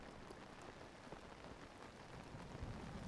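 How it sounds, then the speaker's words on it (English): Rain in The Legend of Zelda: Tears of the Kingdom pattering steadily on a paraglider, a continuous soft hiss of drops with faint low rumbling, fairly quiet throughout. "Was that the sound of the rain bouncing off of the paraglider?"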